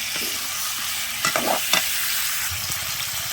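Buffalo meat with chopped tomatoes stirred and fried in a pan, a steady sizzle underneath with a few louder scrapes of the spoon clustered near the middle; no talking.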